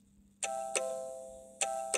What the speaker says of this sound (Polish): Dzwonek jest.